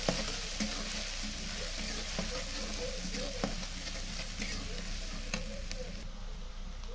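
Onion-garlic paste and chilli fry in oil in a pan while shrimp and banana curry is being made, a steady close sizzle with a few stirring scrapes, continuous and loud.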